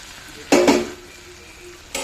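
Boiled rice being mixed in a pan for tamarind-leaf pulihora: two quick, loud scraping strokes of a spoon through the rice, a quieter pause, then another stir.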